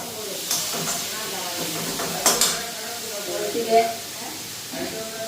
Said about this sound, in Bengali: বাঁধাকপিটা বেশি ভাজা করবো,